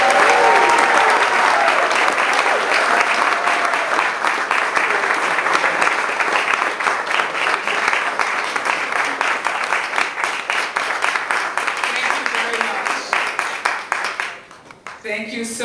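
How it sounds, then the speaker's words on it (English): A large audience gives a singer a long, warm round of applause at an evening event at Gracie Mansion, dense steady clapping holding for about fourteen seconds before tapering off quickly. "a nice, warm round of applause"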